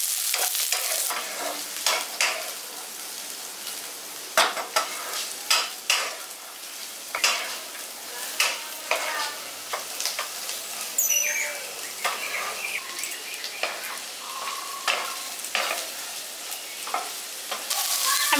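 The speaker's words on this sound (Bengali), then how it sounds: "এখানে কপিটা আর মটরশুঁটিটা আমি হালকা করে ভেজে নিচ্ছি।" Cauliflower and green peas frying lightly in a pan in a village kitchen, with soft sizzling under repeated sharp scrapes and clatter from stirring, moderately close and alone.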